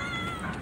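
A cat meows in a short, close, continuous cry set against steady background noise, with no one speaking.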